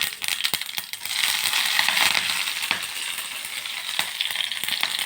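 Mustard seeds crackle and pop in hot oil in a home kitchen pan, a dense continuous sizzle broken by sharp scattered pops, close and steady throughout.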